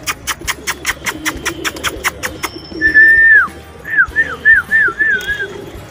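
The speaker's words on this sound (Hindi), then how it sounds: "देखिए दोस्तों कैसे उड़ रहा है ये बांटा कबूतर" Pet pigeons coo in a series of soft, repeated warbling calls, preceded by a steady run of rhythmic clicking or flapping pulses, close by with faint background rumble.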